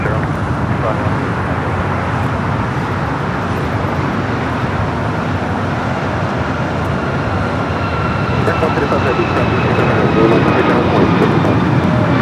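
American Airlines 787-9 Dreamliner arriving at LAX from London Heathrow, a loud continuous broadband jet roar mixed with airport and traffic noise, with radio-style voices talking over it.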